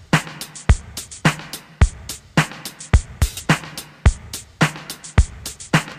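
A punchy programmed drum loop with tight kicks and crisp hi-hats, its hits trailing into a roomy reverb tail set at 25% dry/wet, with delay on the snare, at a steady groove.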